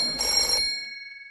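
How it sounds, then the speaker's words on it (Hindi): An old-style telephone bell rings once in a short metallic burst, then its tone hangs and fades away into near silence. "लेकिन इसी बीच अंजू महेंद्रू ने आशीर्वाद में फोन लगाया"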